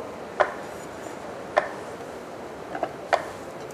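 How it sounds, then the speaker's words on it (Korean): A knife slices tofu on a cutting board, making four sparse, sharp taps at uneven intervals that sound near but fairly quiet over a low room hush. "두부도 5cm 길이로 썰어 주실게요"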